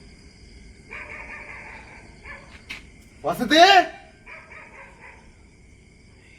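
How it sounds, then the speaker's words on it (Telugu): Dogs bark at night in a quiet rural setting, a few short barks and yips at moderate distance, with a louder burst in the middle, while people speak quietly nearby. "డాగ్స్ కూడా ఒక్కటే అరుస్తుంది ఇప్పుడు"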